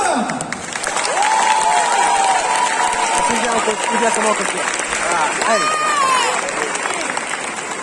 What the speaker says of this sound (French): Je vous demande d'applaudir bien fort Archer